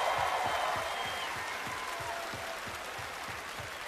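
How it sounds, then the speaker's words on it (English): A large festival crowd at a Five Finger Death Punch set, Reading & Leeds Festival 2016, claps and cheers in sustained applause, loud and dense at first, then gradually tapering slightly while continuing steadily. "give a round of applause"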